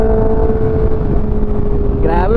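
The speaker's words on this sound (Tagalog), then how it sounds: "Grabe wind drag!" Wind roars steadily past a rider on a Honda CB650R motorcycle, a loud, close rush over the engine's constant hum, with a rising engine note near the end.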